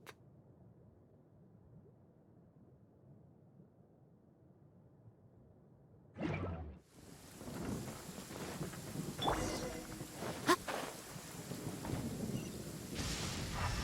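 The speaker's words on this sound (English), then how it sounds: "Many people dread the sound of thunder." Thunder rolls through a Genshin Impact cutscene: after quiet low ambience, a sudden close crack leads into a rumbling storm with rain-like hiss and scattered sharp clinks.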